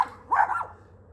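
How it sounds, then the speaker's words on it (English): A household dog gives one short, sharp bark nearby, then quiet room tone. "My dogs are barking."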